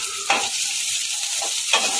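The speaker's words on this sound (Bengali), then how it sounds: "এর মধ্যে দিয়ে দেবো পেঁয়াজটা। পেঁয়াজটা কিন্তু একদম ব্রাউন করার দরকার নেই" Chopped onion going into a hot pan, stirred briefly and lightly fried for a potato sagu dish: a soft, steady sizzle with a few scraping stirs of the spatula, close and alone, with no one speaking.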